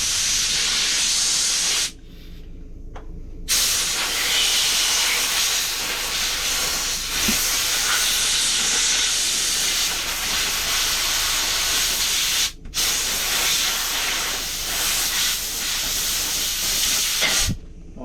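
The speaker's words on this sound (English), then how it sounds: "the easy way of getting these off, you get a bit of air in it" A compressor airline blows a loud, steady hiss of air into bicycle handlebar grips to loosen them for removal, in sustained bursts broken by a few short pauses, close to the microphone.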